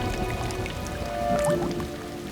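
Water drips and patters steadily after heavy rain, a dense wet spatter of drops on the ground with a faint trickling undertone, continuous and fairly close throughout.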